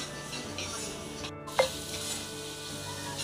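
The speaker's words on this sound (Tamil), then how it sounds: "இது நல்லா சுருள நல்லா வதங்கிடும்." Crab masala sautéing in a pan, the spiced paste sizzling in a steady low crackle with a brief stirring scrape and a short clatter partway through, with no one speaking.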